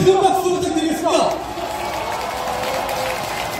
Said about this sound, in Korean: 여러분 다시 우리의 국회의원들께 큰 박수 부탁드리겠습니다